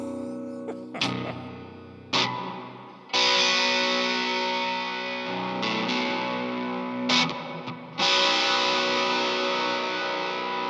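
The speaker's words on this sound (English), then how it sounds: "the kind of gnarly overdrive you've got going on there" A Graham Instruments baritone electric guitar plays sustained overdriven chords with heavy reverb, ringing out loud between a few sharp attacks and brief breaks.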